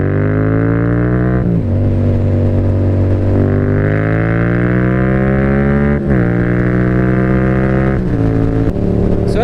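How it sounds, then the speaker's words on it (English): A Yamaha XSR700 motorcycle accelerates onto a freeway and cruises, its engine droning loudly and steadily close to the rider, the pitch climbing through several gears with brief dips at each shift, heavy wind noise beneath. "this bike is fully capable of hitting the freeways, and cruising at freeway speeds, getting up to speed"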